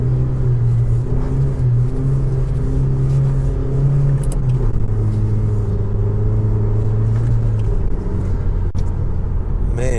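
Engine of a Honda Civic Type R FK2 on a winter drive, a steady loud drone that rises and falls with throttle, continuous road rumble throughout with no talking.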